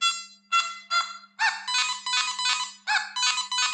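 Nokta Makro Mini Hoard metal detector sounding over a large silver item, a close, bright electronic tone in short bursts, some brief and some longer and modulated, repeated in a quick irregular pattern.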